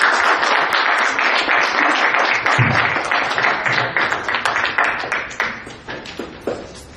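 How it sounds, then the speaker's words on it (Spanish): An audience at a literary event claps, a full round of applause that holds steady before thinning into scattered individual claps that fade toward the end. "les pido un aplauso"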